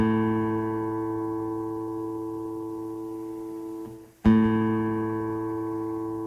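A sustained reference tone for tuning a classical guitar's fifth (A) string rings steadily and slowly fades, is cut off briefly, then sounds again clearly with no talking.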